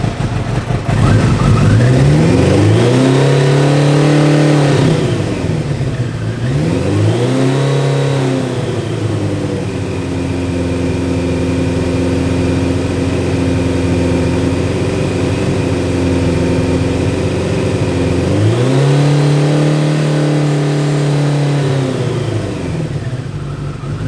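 A 1985 Kawasaki GPZ900R motorcycle engine with the choke on, revving loud and close in three rising-and-falling bursts, with a steady high idle holding between them.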